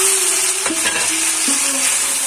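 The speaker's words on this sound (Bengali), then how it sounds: "এবার আমি আরো কিছুক্ষণের জন্য ভালো করে কষিয়ে নেব।" Cauliflower and peas stir-fried together in a pan, a continuous close sizzle with a couple of scraping strokes of a spatula, no voices.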